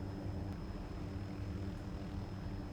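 An MH-6J Little Bird helicopter in the Arma 2 video game gives a steady, muffled engine and rotor drone, low and continuous with a faint high whine, heard from inside the cabin with no talking.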